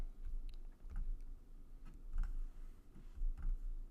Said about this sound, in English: I'm going to hit Command D on my keyboard to duplicate it